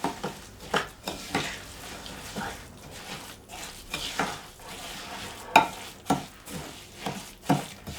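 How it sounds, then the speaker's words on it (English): Oat and raisin cookie mixture is stirred in a bowl, a series of thick scraping and thudding strokes at an irregular rhythm, close and fairly quiet, with sharper knocks now and then. "I'm just going to give that a good stir."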